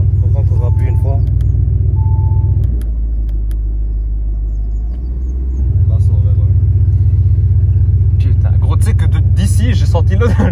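An Audi RS7 C8 with a straight-pipe exhaust and open valves rumbles loudly up close, a deep steady idle that dips briefly before rising again, while people talk over it.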